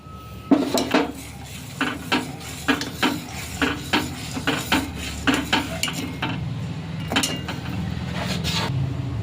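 A spoon mixes milk powder and sugar into milk in a bowl, knocking and scraping the rim in a quick regular rhythm of close clinks over a constant low hiss.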